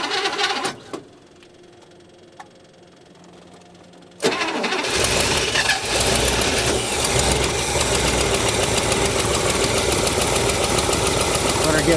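An abandoned old International pickup truck engine cranks and fires up after a revival, settling into a loud, steady rough idle that runs continuously after a quieter stretch.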